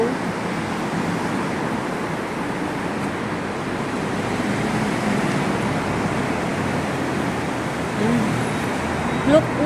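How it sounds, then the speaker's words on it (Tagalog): Road traffic on a street in Wan Chai, Hong Kong: a steady, broad rumble of passing vehicles fills the whole stretch, swelling slightly near the end. "Pero may sasakyan."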